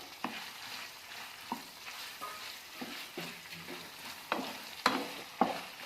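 Onion and garlic frying in a pan, a steady soft sizzle broken by intermittent stirring scrapes and clacks, heard up close with no talking.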